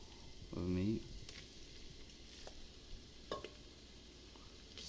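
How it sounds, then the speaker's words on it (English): Ground meat browning in a pan with garlic for lasagna, a faint, steady sizzle close by with a few scrapes and stirs, and a brief hum near the start. "now you just want to brown the meat"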